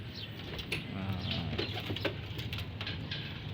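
Racing pigeons in a loft, returned from training, giving low soft coos over steady background noise, with faint wing movement and brief chirps.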